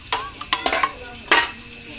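A spoon stirs spice mix with hot water in a pan for a pork dish, giving a few short, close scraping and sloshing strokes at an irregular rhythm, fairly soft.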